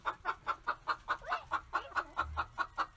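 Chickens cluck in a steady, regular series of short calls, about a dozen across a few seconds, close and clear with no talking.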